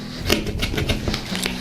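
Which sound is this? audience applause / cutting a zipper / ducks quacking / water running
cutting a zipper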